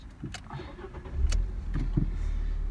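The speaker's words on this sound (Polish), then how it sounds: "Odpalmy samochód." A 2015 Fiat Punto with a 1.4-litre LPG engine starts up: a few clicks and a short starter crank, then the engine catches and settles into a steady low idle.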